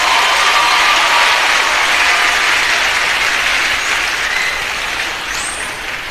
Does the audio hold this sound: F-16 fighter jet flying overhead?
no